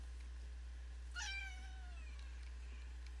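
A single drawn-out cat meow, clear and moderately close, rising then falling over about a second, set against a steady low electrical hum and faint background hiss.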